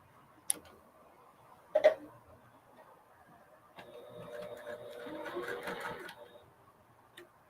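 A sewing machine stitches a test scrap of fabric for a reversible handbag, a steady mechanical run of about two seconds following a few sharp clicks and taps from handling.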